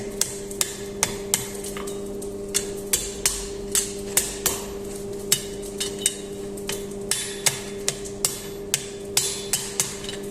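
Blacksmith's hammer striking hot metal on an anvil while forging a smithing tool, a steady run of sharp ringing blows roughly every half second over a constant low hum, close and loud, with no talk.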